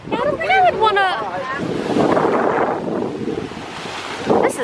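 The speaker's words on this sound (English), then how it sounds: "These waves are splishing and splashing." Ocean waves splash and rush below waterfront houses, a loud broad surge mixed with heavy wind buffeting the microphone, while a person talks over it.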